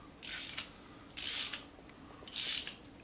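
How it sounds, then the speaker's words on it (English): Ratchet tightening bolts on a 1982 Ford dually truck, three short bursts of rapid metallic clicking spaced about a second apart, close and fairly quiet, with no voices. "you're not supposed to tighten these all the way down"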